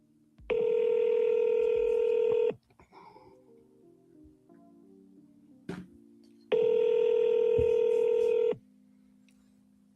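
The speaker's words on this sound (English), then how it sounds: "Let's see if we can get Vlad on the phone." A telephone call ringing out on the line, with two long, steady electronic ring tones separated by a few seconds of quiet low hum, clear and close.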